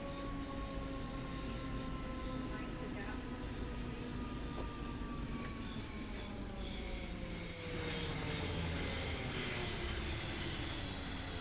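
A simulated train in Train Sim World 3 rolls into a station on the Cathcart Circle Line, with a continuous rumble, faint wheel squeal and thin sustained tones throughout at moderate level.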